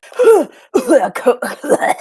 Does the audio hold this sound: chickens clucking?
no